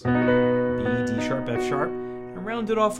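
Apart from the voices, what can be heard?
No everyday noise stands out behind the speech.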